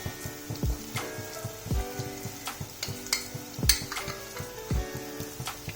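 Garlic and ginger frying in a pan for a Chinese-style dish, a steady close sizzle broken by repeated scraping and tapping of a spoon against the pan, with no talk.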